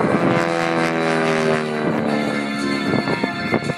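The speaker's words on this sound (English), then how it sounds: "Watch for the airplane on the right to slide back into the diamond" Aerobatic propeller airplanes fly overhead at an air show, their engines a loud, steady droning whine with shifting pitch and wind buffeting, heard alone without talk.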